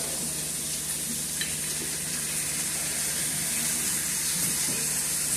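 Ground beef fries with Worcestershire sauce in a pan, giving a continuous dense sizzle at an even, moderate level throughout, with faint bubbling and no voices.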